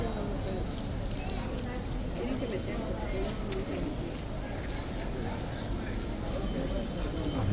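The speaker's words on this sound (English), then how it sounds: "Horse is back out at the front again" Horse hooves clip-clopping at Horse Guards in London, a steady rhythm of hoof falls on hard ground mixed into dense crowd and street noise, with no voices standing out.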